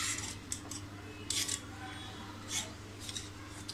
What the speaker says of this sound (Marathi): अशा प्रकारे आपण सगळ्या दोडक्यांच्या अशा या शिरा काढून घ्यायला